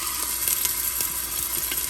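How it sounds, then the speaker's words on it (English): Steady loud sizzle of sliced onions frying in melted ghee in a pressure cooker, a dense continuous hiss with faint stirring scrapes, no talking. "Ghee has melted. Now I'll add my sliced onions."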